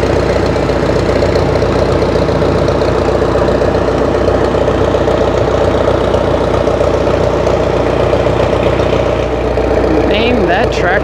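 An Allis-Chalmers tractor at a rural tractor show in Boonville, Missouri, its engine running steadily with a loud, constant low rumble and fine knocking throb, close by, while people talk faintly nearby.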